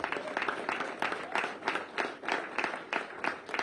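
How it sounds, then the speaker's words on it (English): A congregation applauds inside a packed church, a steady wash of clapping hands that holds at an even level from start to finish with no voices on top. "I think you deserve to give yourself a round of applause"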